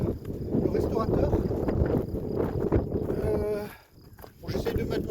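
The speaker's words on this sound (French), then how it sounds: "il y a trop de vent" Strong wind gusts roar steadily across a microphone outdoors on a mountain hiking trail, with a brief lull near the end before the gusting returns.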